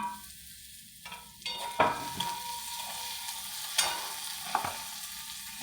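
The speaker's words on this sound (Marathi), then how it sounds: "टॅमॅटो टाकूया." Tomatoes go into a pan of frying potato and spinach bhaji and get stirred, a quiet low sizzle broken by a few sharp spoon scrapes against the pan, with no voices.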